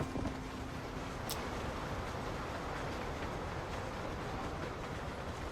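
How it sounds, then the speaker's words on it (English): A train rolling past in the video game Red Dead Redemption, a dense, continuous rumble with rattling wagon noise and a brief high whistle-like squeal early on, loud and steady throughout. "Train, get out of the way."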